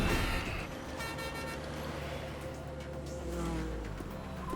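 A car drives past and its horn sounds in tooting bursts, the engine rumbling underneath at moderate distance, with no talk.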